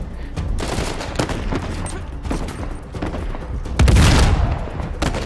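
Gunfire in the Uncharted 4 video game, a ragged fusillade of shots and sharp cracks with a louder burst near the end, fairly close and continuous under faint game sounds.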